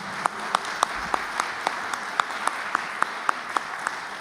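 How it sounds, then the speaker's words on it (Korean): Applause from the audience at Hanshin University's 84th anniversary ceremony for an award recipient, a soft bed of clapping punctuated by regular sharp, evenly spaced claps close by. "다시 한번 우리 한신상을 수상하신 김인순 원장님께 큰 박수 부탁드리겠습니다"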